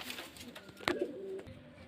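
Pigeons kept for sale in a loft give faint, brief coos amid quiet background noise, with a sharp click partway through and no talking.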